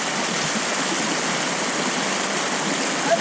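A river rushes in a steady, loud, broadband wash with no pauses, close by and with no voices over it.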